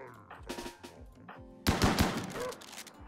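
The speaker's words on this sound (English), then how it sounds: "stop. Stop shooting. Stop shooting. Stop shooting." Rapid bursts of gunfire from the video game RimWorld, short clustered shots with a louder, denser volley partway through, heard alongside a man's speech.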